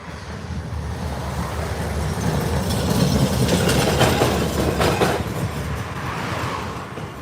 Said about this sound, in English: The trams of Magnitogorsk.